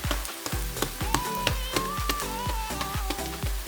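Keto pizza dough made from two ingredients cooks in a pan with a steady sizzle and crackle. Repeated soft pulses and a tonal backing run under it.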